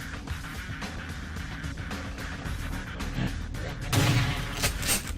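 Rapid gunfire in the vampire role-playing game Vampire: The Masquerade – Bloodlines, with a dense crackle of shots over busy game noise and a heavier burst near the end.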